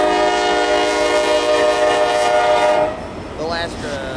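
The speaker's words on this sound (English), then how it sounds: "This will be NS-126." A Norfolk Southern NS-126 manifest freight train with AC44 and SD70ACu locomotives comes down the grade at Shawsville, its horn blaring loud and steady for about three seconds before cutting off, leaving the rumble and rail clatter of passing cars.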